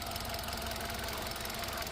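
A used car engine, Hyundai Grand i10 or Maruti Suzuki SX4, runs steadily at idle with a slight knocking rumble throughout, continuous and close, no voices.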